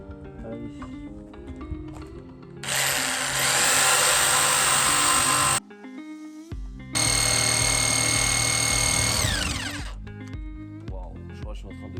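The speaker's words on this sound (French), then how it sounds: "C'est plus en train de cramer le bois que de couper." Power saw blade burning wood rather than cutting it during a DIY guest-room build, two long loud high-pitched whining bursts with a short gap between them, close, with people talking around them.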